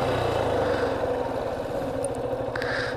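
A motorcycle with a fault idles roughly on an offroad route near Shuklagandaki, Jaspur, giving a close, steady, throbbing engine pulse for the whole stretch with no voices.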